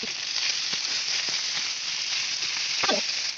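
Chicken thighs sizzle skin-down in a hot pan with a steady, loud, even hiss of frying, broken only by a few faint clicks and a brief scrape near the end.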